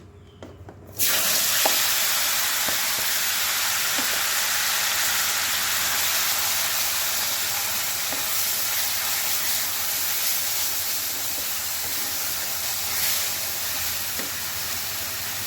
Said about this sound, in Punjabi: ਅਸੀਂ ਹੁਣ ਇਹਦੇ ਚ ਪਾਵਾਂਗੇ ਆਪਣਾ ਗ੍ਰਾਈਂਡ ਕੀਤਾ ਹੋਇਆ ਪਿਆਜ਼ ਲਸਣ ਤੇ ਕਰੇਲੇ ਦੇ ਬੀਜ